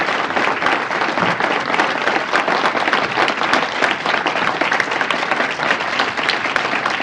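Audience at a city council meeting in Omaha, Nebraska, applauding loudly and steadily, a dense crowd clapping without pause from start to finish.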